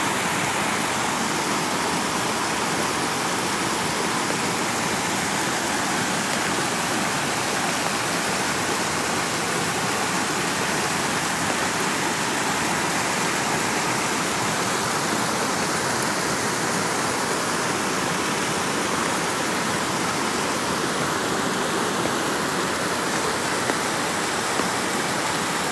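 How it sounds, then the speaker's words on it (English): A small waterfall in a forest near Kristiansand, Norway, rushes in a loud, steady roar of falling water that continues unbroken throughout. "Look at that waterfall. So nice sound."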